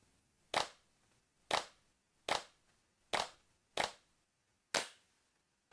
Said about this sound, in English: 6 claps. Is that enough claps?